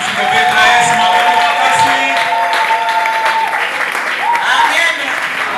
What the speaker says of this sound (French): On peut encore acclamer très fort?